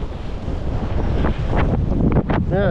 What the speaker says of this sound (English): Now that wind's gonna rip it all the way over here.